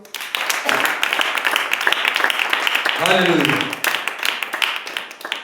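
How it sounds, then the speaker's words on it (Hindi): A congregation at a church service applauds, a dense burst of clapping mixed with loud shouted voices and cheering, fairly close. "ताली देंगे हम।"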